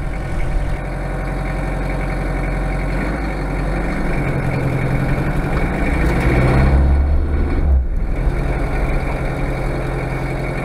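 Car engine idling steadily nearby after a Bosch VE fuel upgrade with a swirl pot, a continuous low rumble throughout with a slight swell in the middle.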